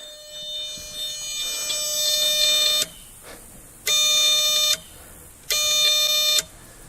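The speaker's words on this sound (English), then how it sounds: "with the block set to on, it should immediately start beeping" A New Holland 660 baler's shrill electronic warning beep sounds in three long bursts, the first steady for a few seconds, then two shorter pulses with brief pauses between, loud and close.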